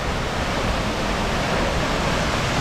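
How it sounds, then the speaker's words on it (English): Waterfall at Queen Mary Falls, heard from the base of the falls: a loud, steady, broadband roar of crashing water that fills the whole stretch without a break. "Okay, coming to the bottom of the falls now."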